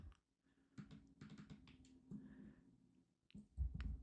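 Typing on a computer keyboard that sometimes fails to register a key, with bursts of close, uneven key clicks separated by short pauses and no speech.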